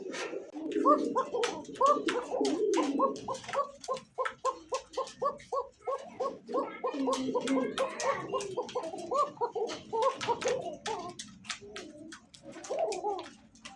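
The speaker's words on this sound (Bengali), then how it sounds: "নর এবং মাদি ককা কবুতর। হ্যাঁ, ভয়ে ভয়ে আছে কবুতর দুইটা, খুব সুন্দর ডাকে" A male and a female Kokka pigeon coo close by in rapid, rhythmic bursts of repeated throaty notes that go on almost without pause, with a person talking faintly at times.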